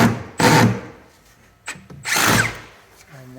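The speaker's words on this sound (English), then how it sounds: "just for this demo, we'll just put a couple of screws in" Cordless drill driving screws into a bin store panel framework, two short whirring bursts close by with a brief pause between them, ending on a quick spin-down.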